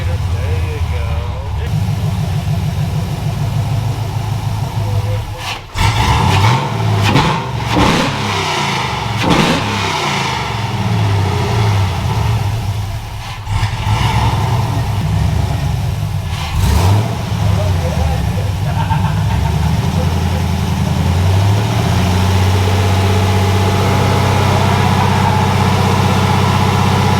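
A 1955 Chevy engine runs close by, with a loud rough idle broken by several sharp throttle revs that rise and fall, and people talking over it.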